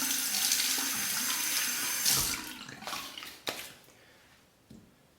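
Water runs from a tap to rinse a Merkur 23C safety razor, a close, steady gush that breaks into a few splashes and then cuts off, with nobody talking.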